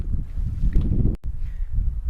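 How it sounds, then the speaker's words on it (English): Strong gusts of wind, up to about 40 mph, sweep across Truman Lake, buffeting the microphone with a low, rumbling roar that surges and briefly drops away. "It's gusting really bad."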